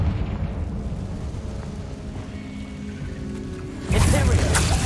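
A Confringo fire spell blasts in the Hogwarts Legacy wizarding video game, a sudden loud burst rising out of a quiet ambient hum near the end and continuing as a broad roar.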